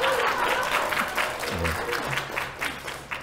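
Audience applause in a church gathering, a burst of crowd clapping that stays dense and steady, with a voice talking faintly over it partway through.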